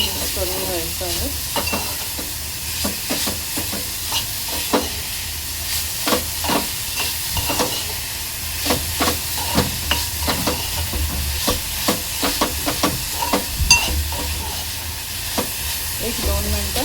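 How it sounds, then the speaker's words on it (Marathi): Grated fresh coconut is stirred into melted jaggery in a pan for mango modak, a spatula scraping and clacking in a steady rhythm over a constant low sizzle, close and loud. "किसलेलं ओलं खोबरं गुळामध्ये चांगलं मिक्स करून घ्यायचं आहे"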